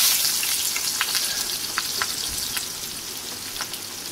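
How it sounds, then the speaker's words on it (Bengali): Chopped onion with a few green chillies fries in oil, a steady soft sizzle with faint crackles and occasional stirring scrapes, close and alone without any voices. "পেঁয়াজটাকে আমি ভালো করে ভেজে নেব।"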